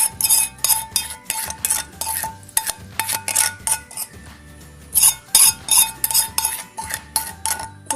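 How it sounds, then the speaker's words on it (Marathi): A spoon stirs vada pav potato filling with tempering in a metal pot, giving close, rhythmic clinks and scrapes in quick bursts with short pauses. "आता आपण हे सगळं ह्याच्यामध्ये छान मिक्स करून घ्यायचं आहे"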